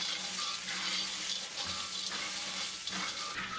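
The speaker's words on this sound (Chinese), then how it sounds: "然后往锅里加入几滴白酒，快速的翻拌均匀。" Peanuts are quickly stir-fried in a wok with a few drops of liquor. The frying gives a close, rushing sizzle, with stirring scrapes and bursts of hiss that rise and fall over a few seconds, and no one speaks.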